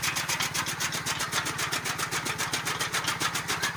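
A motorcycle engine powering a fodder cutter chugs steadily and loudly throughout, with a rapid, even mechanical rattle layered over its low throb, no voices.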